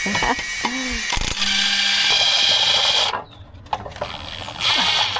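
Ratchet work on a Range Rover 4.4L SDV8 flywheel gives several bursts of rapid metallic clicking, close up, with a short gap of quiet shop noise before the clicking resumes.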